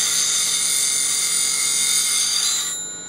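Skew chisel edge being shaped on the coarse side of a sharpener, a continuous high whining grind, loud and steady, that fades slightly near the end.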